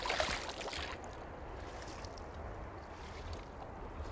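A small boat ride on clear river water at Bholaganj Sada Pathor in Sylhet, with a steady low rumble of water and wind against the microphone, slightly louder at the start, and no talking.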